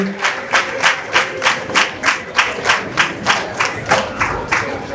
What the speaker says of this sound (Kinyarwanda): Amashyi menshi n'impundu.